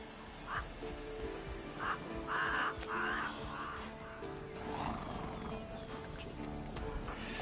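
Roach, Geralt's horse in Witcher 3, whinnies amid a busy game soundscape of hoof clops, crow caws and ambient music, with short neigh-like calls repeating at moderate distance.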